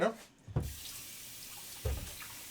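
Water runs from a kitchen sink tap near a cluster of power adapters, a steady faint rush lasting throughout, broken by a couple of short clunks or bumps.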